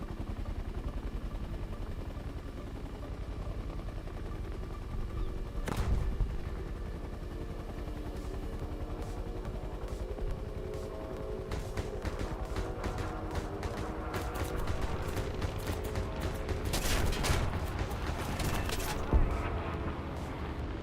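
Combat in the War Thunder video game with a grenade launcher and gunfire: a constant engine rumble carries scattered shots and rapid crackling bursts of gunfire, which grow busier toward the end.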